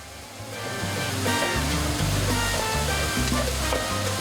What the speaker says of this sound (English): make sure you crack it up to high heat and then continue to stir fry